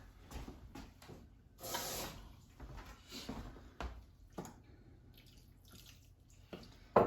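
Water pours into a cooking pan on the stove in a home kitchen, a few faint splashing bursts separated by quiet gaps, with no one talking.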